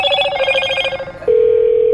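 A phone rings with an incoming call, loud and close: a quick trilling ring pattern that gives way to a sustained steady tone, with no talking.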